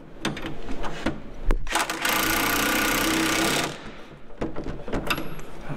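A power tool runs a keyed-washer nut tight on a Datsun 510 wagon's front suspension, giving a loud, sustained mechanical rattle of about a second and a half, set between scattered clanks and knocks of parts being handled.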